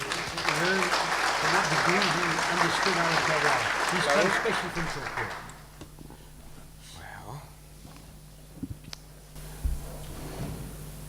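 A conference audience at a wine talk breaks into dense, loud applause for about five seconds, then it fades out into a quiet room with scattered small knocks and shuffles.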